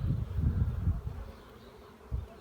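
Honeybees buzz low and steady around a freshly installed hive in the countryside, the drone swelling and fading as insects pass near.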